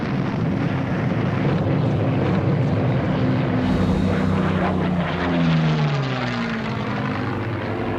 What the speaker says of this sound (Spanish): Incursión aérea masiva del Tercer Reich sobre las ciudades británicas.